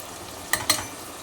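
A spoon scrapes twice through chicken leg masala mixed with Kashmiri chilli powder in a pan, two short close clacks over a soft background sizzle, no talking.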